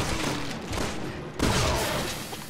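A backpack explodes in the shooter Resident Evil 6: dense gunfire and roaring noise break into a sudden heavy blast partway through, followed by a lingering rumble with no speech.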